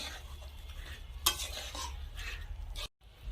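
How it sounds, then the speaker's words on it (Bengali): Spice paste mixed with spice water, stirred in a pan for a Bengali pankal (eel) fish dish: steady scraping and soft sizzling, one sharp clank of the utensil midway, then a brief silence and the stirring resumes. "কষা মশলা ভালো করে জলের সাথে এভাবে নেড়ে চেড়ে মিশিয়ে নেব"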